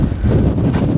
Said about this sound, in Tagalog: Lakas ang hangin, ha?